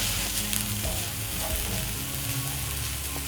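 Large onion stirred and frying in a hot pan, a steady close sizzle with scraping stir strokes running throughout, no talking.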